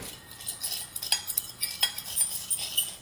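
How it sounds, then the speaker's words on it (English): A spoon scrapes and clinks in a bowl, stirring cinnamon into sugar with quick, close, repeated scratchy strokes and light chinks at a moderate, even level. "Mix it together."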